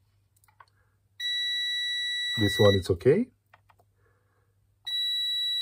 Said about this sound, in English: then we should hear a beep